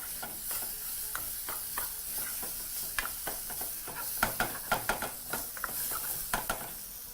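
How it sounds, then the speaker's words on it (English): Tomatoes fry at medium-low heat in a pot for a Kenyan fried githeri mukimo, with a steady sizzle under repeated scraping stirs that clack against the pot in an irregular rhythm, close and fairly loud. "proceed to fry at medium to low heat right up until your tomatoes start to blister"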